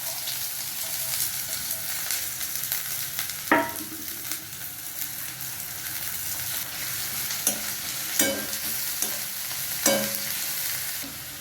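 Onion and garlic fry in hot oil in a wok, a steady close sizzle broken by a few sharp stirring scrapes, with no talk.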